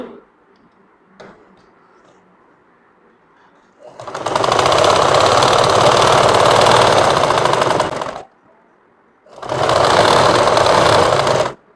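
A sewing machine runs a long seam on a kameez in two loud, rapid stitching bursts separated by a short pause, with faint clicks and quiet handling before the first run.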